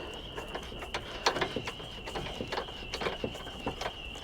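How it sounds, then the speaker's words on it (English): Ratchet wrench tightening the battery hold-down bolt in a Honda Fit engine bay, a fast series of small clicking pawl strokes in bursts, close but fairly quiet, over a faint steady high hum. "Bolt it down."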